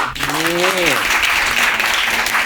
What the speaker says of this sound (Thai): ปรบมือเลยครับ